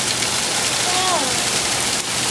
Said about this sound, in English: for it to be ice pellets hitting my patio like this is phenomenal.